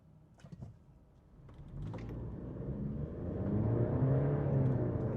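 A 2024 Mercedes-Benz engine revs and accelerates from the cabin, a low growl rising steadily in pitch and loudness after a few faint clicks.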